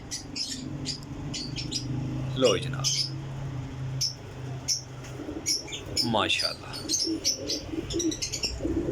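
Pigeons coo and flutter in a rooftop loft, with chirps and low cooing scattered throughout as someone speaks briefly.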